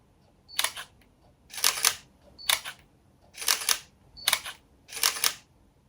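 Camera shutters firing, a Panasonic and then a Sony, six crisp mechanical clicks in alternating pairs about a second apart, close and clear against near silence.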